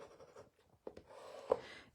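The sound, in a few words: bone folder burnishing a paper card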